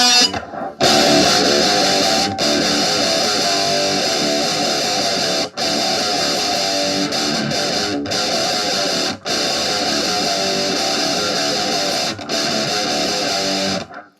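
A heavily distorted electric guitar through a rectifier amp model on a JOYO GEMBOX floor modeller chugs thick, saturated chords, loud and sustained, with several short abrupt stops between phrases.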